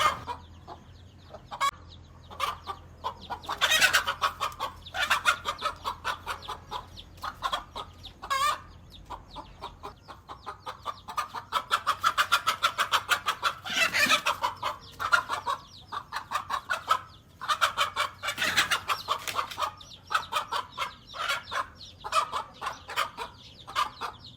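A mother hen clucks in loud, agitated bursts, close by, with other chickens adding sharp squawks and fluttering in an uneven, excited rhythm.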